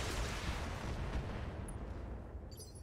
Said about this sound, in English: Might as well completely unload with a really nice central torso fire.